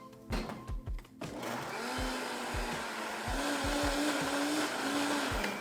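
A household blender runs at full speed mixing carrot cake batter, a loud continuous whirring that starts after a few sharp thuds and clunks from the jar and holds steady to the end.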